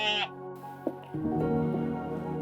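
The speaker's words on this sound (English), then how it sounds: "Those are billy goats." Billy goats on a Navajo Nation farm bleat, a short nasal call followed by a longer wavering bleat nearby, with a faint thud between them.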